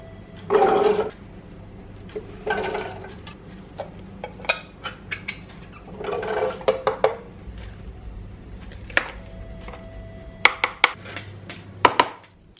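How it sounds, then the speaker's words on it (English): Eggs are set into a pot for boiling without water in a home kitchen, heard as a few scattered clinks, knocks and rustles of handling cookware, with quiet pauses between, close and moderately loud. "you take the eggs and put it in the pot"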